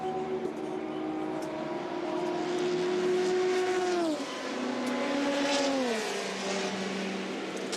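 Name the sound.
onboard Toyota race car at Le Mans, Mulsanne straight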